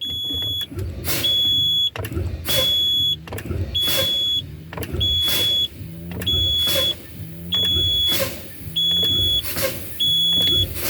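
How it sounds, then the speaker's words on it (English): A truck's low air pressure warning buzzer, triggered at 70 psi, sounds in repeated bursts, about one per second, over a low engine idle and fan noise, heard in the cab, with no voices. "My low air warning light and buzzer came on at 70 psi."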